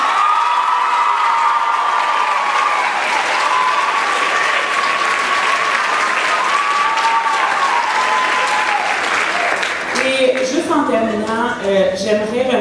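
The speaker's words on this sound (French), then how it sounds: "Je pense que ce serait le temps d'applaudir la chorégraphe en chef" Audience at a secondary school performance applauds the head choreographer with loud, dense, continuous clapping. Near the end, cheers and voices rise through the clapping.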